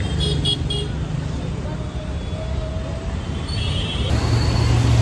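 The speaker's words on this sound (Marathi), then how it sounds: "फुल ट्रॅफिक आहे. फुल ट्रॅफिक." Heavy city road traffic rumbles all around with engines and several car horns tooting near and far, a loud continuous din.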